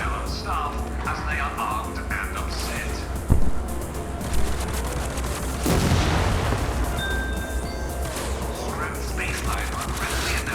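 Turret gunfire in the shooter game TimeSplitters Rewind, bursts of rapid shots and a couple of sharp impacts over a busy game mix, with people talking throughout.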